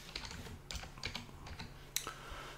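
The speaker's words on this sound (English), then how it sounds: "So I'm gonna type in candy up here in the search bar." Soft, close keyboard clicks come in an uneven run as a word is typed into a desktop search bar, ending with a sharper keystroke, over faint background hum.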